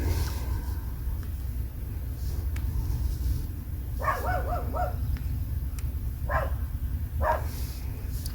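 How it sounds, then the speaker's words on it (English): A dog barks outdoors at a distance, a few short yips and barks spread over several seconds above a steady low rumble of background noise. "darn dog."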